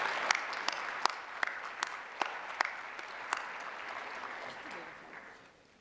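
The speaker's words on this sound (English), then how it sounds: "please give another round of applause for all those folks that really did amazing work to protect El Paso" An audience at a college of science pre-commencement ceremony applauds with crisp scattered claps over a dense patter, then fades out toward the end.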